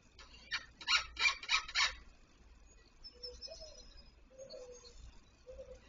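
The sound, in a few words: dove cooing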